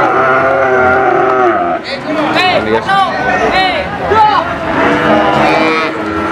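Breeding heifers and other cattle mooing at a busy livestock market in Pati, Java, loud overlapping lows close by amid crowd chatter, with someone speaking briefly.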